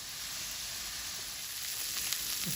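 Shrimp sauté in oil in a pan, a soft, even sizzle holding steady at moderate level, with a faint scrape or stir near the end and no talking.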